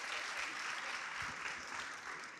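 An audience applauds a guest speaker at a science talk, with steady, even clapping from a room of people that stays fairly soft and continuous throughout.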